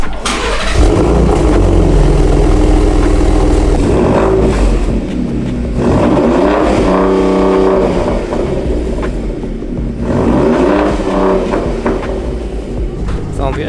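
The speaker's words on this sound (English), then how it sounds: "now we're gonna fire it up" 2018 Ford Raptor with an AWE 2FG exhaust starts up loudly and revs repeatedly, deep rumbling bursts rising and falling close by, with a few voices talking between revs.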